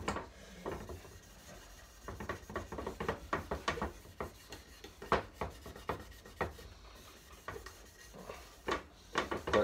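Hand-polishing a Honda CG 125 engine casing with fine 0000 steel wool, a series of short scratchy rubbing strokes in an uneven rhythm, close and fairly quiet, with no talking.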